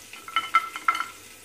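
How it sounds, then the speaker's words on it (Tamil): Brinjal sautés in a pan on the stove while a spatula scrapes and taps the pan a few times over a quiet sizzle, close by, with no voices. "கத்திரிக்காய் கொஞ்சம் நல்லா வதங்கட்டும்"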